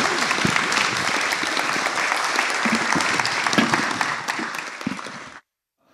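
Conference audience gives a warm round of applause to an expert panel on Indigenous trade leadership, dense steady clapping for about five seconds before stopping abruptly.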